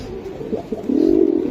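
Giribaj pigeons in cages coo in a low, steady murmur that builds to a fuller, sustained rolling coo toward the end, fairly close and alone.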